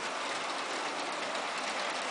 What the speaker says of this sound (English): this time through you'll see that McDonald's train is going to take the turnout leading through the center